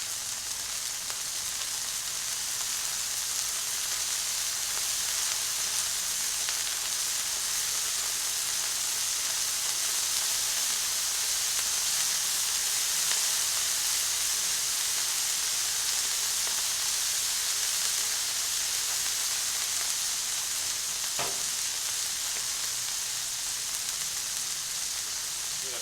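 Hamburger patties frying on a griddle with Worcestershire sauce added: a steady, broad, hissing sizzle that holds evenly throughout, with one brief click near the end and no talk.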